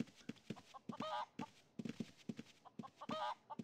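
A chicken in the Ultima Online video game clucks in a quick repeating pattern, with two louder squawking calls rising above the steady pecking clucks, close and clear.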